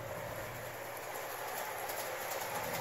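A Bachmann model train engine running smoothly with passenger coaches: a steady, continuous whirring and rolling hum, even in level throughout with no talking.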